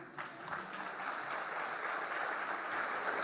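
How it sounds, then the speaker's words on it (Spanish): An audience at a forum on electing judges by popular vote applauds Dr. Mario Flores, producing a soft, even patter of clapping that continues steadily throughout, fairly distant and quiet. "Un aplauso al doctor Mario Flores"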